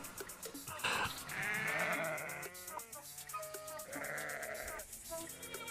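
Sheep bleats used as a musical sound in an original Dungeons & Dragons-themed composition, several wavering bleats layered over a steady rhythmic backing track.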